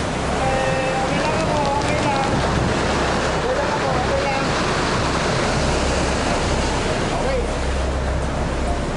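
Roaring wind and crashing storm-surge waves during Typhoon Yolanda, a loud continuous churning wash close to the microphone with buffeting wind noise.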